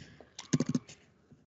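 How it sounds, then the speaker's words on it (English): Quick burst of computer keyboard typing while entering text into a spreadsheet formula, about half a dozen close, crisp key clicks in under half a second, followed by a few fainter taps. "I can type the margin here."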